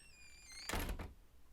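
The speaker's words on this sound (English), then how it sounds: "And don't forget the door, Aura." A door closing with a short, soft thunk that briefly rises over quiet ambience and a fading tonal sound, with no one speaking.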